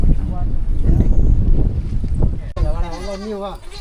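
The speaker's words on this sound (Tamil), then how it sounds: "இதுதான் அவரோட ஆட்டுக்கொட்டாய் நிறைய ஆடுகள்லாம் வச்சு வளர்த்திட்டு இருக்கிறாரு" Goats in a goat shed bleat, with one wavering bleat standing out near the end over loud wind buffeting the microphone.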